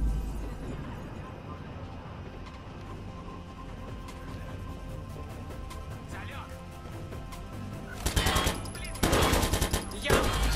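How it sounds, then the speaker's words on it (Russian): Gunfire from behind in the video game Watch Dogs 2, with rapid bursts cracking loudly near the end over steady game noise and background sound. "Стреляет сзади."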